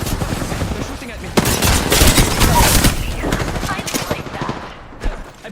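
Rapid automatic gunfire from an Apex Legends battle royale match, dense bursts of shots crackling almost continuously with a sharp loud crack near the middle, close and loud.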